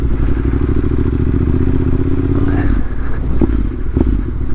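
A Yamaha T7 motorcycle engine drones loudly and steadily at close range while the bike is ridden, with a few clattering thumps over the continuous rumble.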